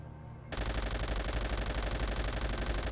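Continuous rapid turret machine gun fire from a Call of Duty: World at War mission, starting abruptly after a brief quiet moment and hammering loudly and steadily to the end.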